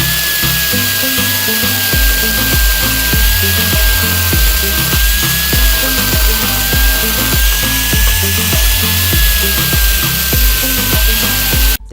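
A grinder whines loudly and continuously while grinding off the rivets of a washing machine spin motor seal, a high metallic screech over a rhythmic pulsing rumble, close and dominant throughout.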